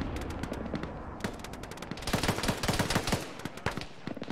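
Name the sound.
auto cannon firing in a military video game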